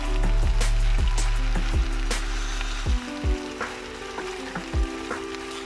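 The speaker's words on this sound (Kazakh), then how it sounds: "кеспені қосып, 2 минуттай қуырып аламыз." Noodles with green beans and other vegetables frying in a pan for Kazakh lagman, a loud steady sizzle broken by sharp clanks of a utensil stirring and scraping.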